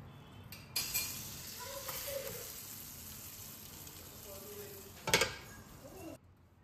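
Pizza base toasting in butter in a pan, a quiet sizzle broken by a couple of sharp clanks from handling the pan, with a faint voice in the background.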